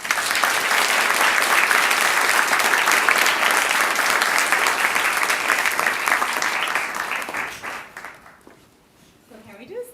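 An audience at a student capstone symposium of flash talks applauds loudly and steadily for several seconds, then the clapping fades out and a voice begins speaking.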